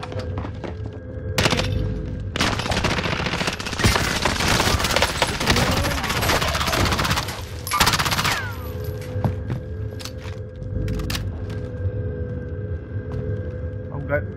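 Gunfire in Call of Duty: Modern Warfare, a multiplayer shooter; loud bursts of rapid automatic fire and heavy impacts come in waves, with quieter stretches between them while a player talks over it.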